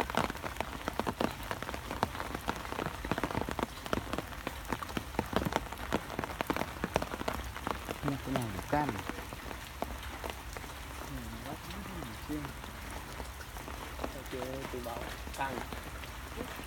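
Steady rain patters down over an abandoned fishing pond, a dense hiss of drops striking water and surfaces throughout, with faint voices now and then beneath the downpour.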